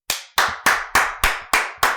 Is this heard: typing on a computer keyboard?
no